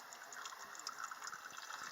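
A steady trickle of liquid draining from a Toyota Camry All-Trac radiator and splashing, continuous and moderately close, with faint background noise.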